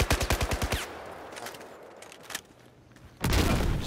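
Rapid automatic gunfire from the video game Twin Guns 2: a fast burst of evenly spaced shots opens, then quieter game noise, then another loud sustained volley near the end.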